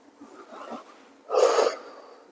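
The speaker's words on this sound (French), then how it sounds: "Et dans l'autre sens, on inspire." A person doing yogic breathing during gentle stretches, a soft breath followed by a stronger, louder breath, close and clear with no speech.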